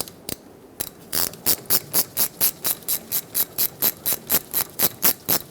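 A ratchet tightens the brake hose bolt on the caliper of a 2008-2010 Ford F-250 Super Duty, giving a fast, steady run of close, crisp clicks, with one or two separate clicks at the start and no voices.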